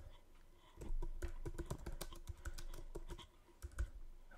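Rapid, irregular keyboard typing close up, a dense run of clicking keystrokes with a few louder taps near the end.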